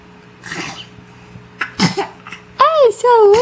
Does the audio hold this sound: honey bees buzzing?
no